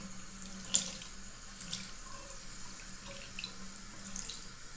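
Water runs quietly from a bathroom tap into a sink, a faint steady flow with a couple of small splashes, no voices.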